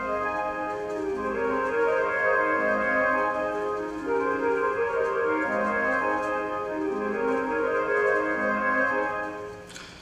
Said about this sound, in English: we have two flutes and two clarinets that are playing a kind of a textural integration